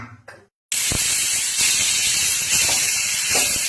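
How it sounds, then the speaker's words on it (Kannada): Pressure cooker on the stove while cooking biryani, letting out a loud, sustained hissing steam whistle after a brief quiet moment, continuous and close for several seconds with no speech. "ಸೊ 2 ವಿಷಲ್ ಆಗೋವರೆಗೂ ವೇಟ್ ಮಾಡೋಣ."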